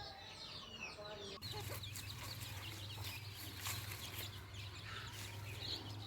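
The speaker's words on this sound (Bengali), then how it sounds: "মুরগিগুলো ডাকাডাকি করছে।" Chickens cluck and call on a farm, a cluster of hens close by with short repeated clucks and occasional louder calls over a steady low hum, fairly faint overall.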